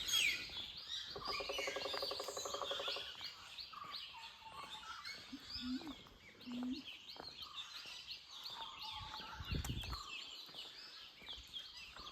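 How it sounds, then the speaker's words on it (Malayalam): Small birds chirp and twitter along a quiet roadside in Munnar, a busy, continuous chorus of overlapping calls at moderate distance, with a few brief low knocks in between. "ഈ കിളികളുടെ സൗണ്ടൊക്കെ ഉള്ള ഈ വഴിയിലൂടെ ഇങ്ങനെ പോവാണ്"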